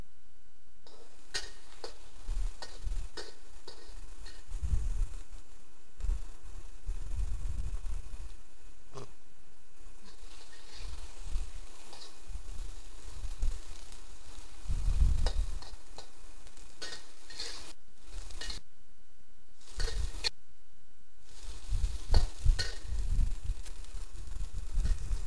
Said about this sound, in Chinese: 把肉丝炒熟之后放入长豆， 略微拌炒之后加入水 50cc。